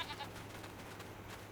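Goats bleat faintly in a Farming Simulator 25 farm scene, a couple of soft calls over a steady low background hum.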